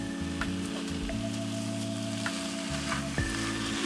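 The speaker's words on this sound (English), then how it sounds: "It has been sauteing for about 2 minutes now." Kale, cabbage, tomatoes and other vegetables sauteing in a pot for a vegan butter bean soup, a steady close sizzle and crackle with a low hum beneath and no talk.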